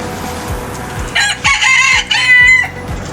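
A rooster crows loudly and close by at a chicken coop, its call sustained for about two seconds, while softer clucking and low hen noises continue underneath.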